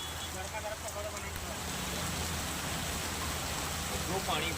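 Heavy rain pours steadily over the city of Vadodara, a dense, even hiss of downpour filling the whole stretch at a moderate distance, with a faint voice underneath.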